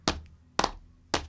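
Three heavy sneaker stomps on a hard floor, each a dull thud with a slight scuff, spaced about half a second apart, close and isolated.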